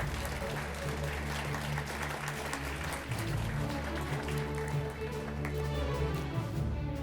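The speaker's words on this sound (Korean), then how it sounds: "시상해 주실 김인겸 법원행정처 차장님을 큰 박수로 맞이해 주십시오." An audience at a courtroom debate competition's award ceremony claps steadily and continuously, a dense even applause that fills the room throughout.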